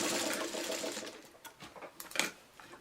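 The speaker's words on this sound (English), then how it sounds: "I'm just, back stitching really quick and putting this under my needle" A sewing machine back stitching while piecing a Dresden fan quilt block, a fast rattling whir that runs steadily, drops out briefly, then returns in short bursts, close and loud with no talking.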